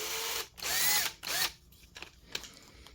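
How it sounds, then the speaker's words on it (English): A power drill pre-drills a small screw hole in a knife, whirring loudly in two close bursts and then a softer, sputtering run that trails off into quieter clicks. "to pre-drill a little hole"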